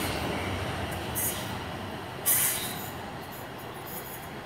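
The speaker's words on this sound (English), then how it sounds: "departing out 444-013 and 444-003 on the slightly delayed 11:15 service to London Waterloo" Two coupled Class 444 electric units pull out of Brockenhurst station for London Waterloo with a steady rumbling roar, with short hissing air bursts and a sharp release of air midway.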